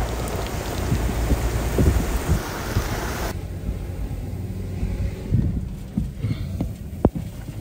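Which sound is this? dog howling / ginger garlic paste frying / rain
rain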